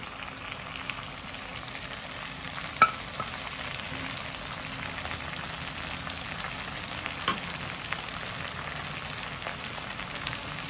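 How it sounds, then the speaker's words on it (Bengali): Poppy seed paste frying with drumstick pieces in a pan, a soft, steady sizzle heard faintly and close, with a couple of light clinks near the start and middle, no talking. "এই মুহূর্তে আমি বেটে রাখা পোস্তটা এর মধ্যে দিয়ে দিচ্ছি।"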